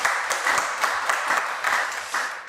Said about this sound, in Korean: 아주 꽉 찬 발제 해주신 우리 송인 선생님께 다시 한번 박수 부탁드립니다